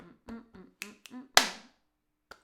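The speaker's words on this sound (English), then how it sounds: "So you add in a little click click before the clap." A few sharp finger snaps in a slow rhythm exercise during a singing lesson, close and crisp, mixed with a voice counting and vocalizing between them.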